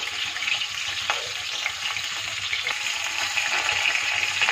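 Rohu fish pieces frying in hot oil over raised heat, turned side to side, giving a loud, continuous sizzle with occasional spatters and light clinks of a utensil.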